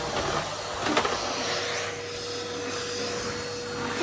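A household vacuum cleaner fitted with a dusting brush head runs steadily, a constant broad whooshing hiss with a faint motor whine, close and uninterrupted, with a brief bump of the brush against a surface.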